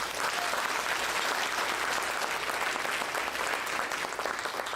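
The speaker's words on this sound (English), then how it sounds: "And that deserves a round of applause." Sustained audience applause fills a hall at a minority business awards keynote, a dense, steady wash of many hands clapping at even loudness throughout, with no voices standing out.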